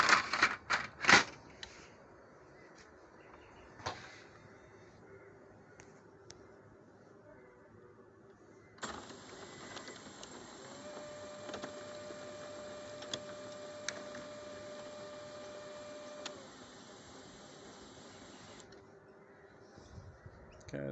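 A Samsung CLX-3305 laser printer runs a test paper feed after a tray 1 jam repair: a few sharp clicks and clacks, then a steady mechanical whir with faint ticking, heard up close with no talk.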